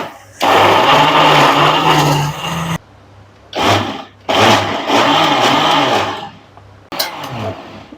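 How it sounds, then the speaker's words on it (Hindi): A kitchen blender grinds peaches into juice with a loud, whirring motor roar in several bursts that stop and restart, with the pitch shifting as the fruit breaks down. "अब हम इसका कवर लगाएंगे और इसको उठा के मशीन पे रखेंगे और इसको लॉक करेंगे और इसको हम ग्राइंड करेंगे।"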